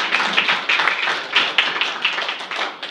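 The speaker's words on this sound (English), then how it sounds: "They deserve a round of applause as well" Applause for Brian and Tom at a House Education committee hearing: a moderate group claps steadily in a loud, close, even patter, with no talk over it.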